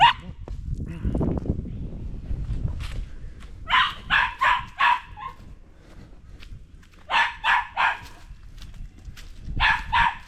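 A dog barks in short bursts of three or four sharp yaps, then pauses and barks again, close by outdoors, with a voice talking briefly at the start.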